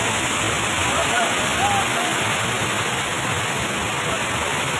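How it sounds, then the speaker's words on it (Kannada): Hogenakkal Falls in Tamil Nadu pours as a steady, loud broadband roar of falling water, continuous and close throughout. "friends Hogenakkal falls in Tamil Nadu"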